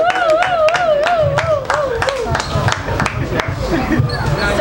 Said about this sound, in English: Please clap for her. Clap for her.